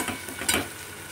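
A Bengali pointed gourd dish fried in ghee is stirred in the pan, giving a brief close sizzle with one quick scraping swell in the middle and no talking.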